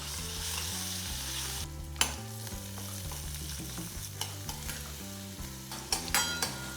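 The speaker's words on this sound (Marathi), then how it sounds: "लसणाचा थोडा रंग बदलत आला की लागली गॅस लहान करूयात आणि हा चिरलेला एक वाटी कांदा घालणार आहोत" Chopped onion and crushed garlic fry in a pan with a steady sizzle, broken by repeated stirring scrapes and a few sharp utensil clinks; no talking.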